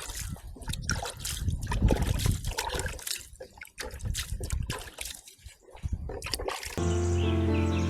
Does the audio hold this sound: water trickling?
yes